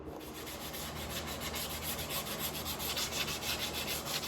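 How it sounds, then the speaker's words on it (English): Sandpaper rubs against wood in a steady, continuous scratchy hiss, close up and unbroken for a few seconds, with no voices. "Take a little sandpaper to it."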